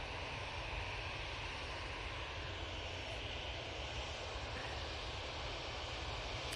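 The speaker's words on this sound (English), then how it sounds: "This EasyJet's off to Zakynthos" An EasyJet airliner departs for Zakynthos, its engines a faint, steady distant roar that holds evenly throughout with no talk over it.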